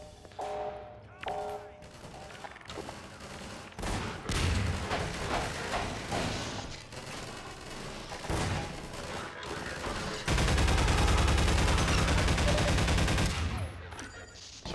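Gunfire in Half-Life 2: bursts of automatic weapon fire and sharp shots rattle loudly, building to a sustained roaring barrage near the end, with no talking over it.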